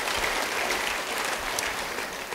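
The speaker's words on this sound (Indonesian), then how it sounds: "beri tepuk tangan bagi dia" A church congregation claps together in a short burst of steady, dense applause that holds at an even level throughout.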